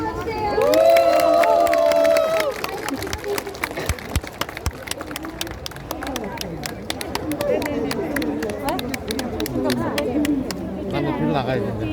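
Concert audience at a fan meeting applauds and cheers, a loud continuous crowd roar with clapping and shouts, while a voice talks over it at the start.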